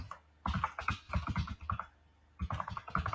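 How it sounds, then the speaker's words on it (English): Computer keyboard typing in bursts of quick key clicks, close and fairly quiet, with a short pause partway through before the keystrokes resume. "So I will just type in the presenter's name"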